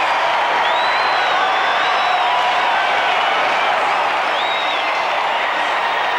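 Dense, loud stadium crowd roaring and cheering at a 1992 Atlanta Braves baseball game after the Braves sweep the Reds, with whistles and whoops rising above a steady wall of noise throughout.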